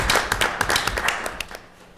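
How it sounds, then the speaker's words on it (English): A small group at a town selectmen meeting claps in a brief, uneven round of applause, sharp hand claps close by that taper off after a couple of seconds. "I'd say a great round of applause."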